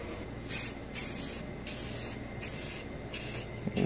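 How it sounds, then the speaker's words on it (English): Spray primer hissing from an aerosol can onto a Honda B-series distributor cap, six short even bursts of steady hiss separated by brief gaps, close and fairly loud. "I'm going to shoot it with the primer"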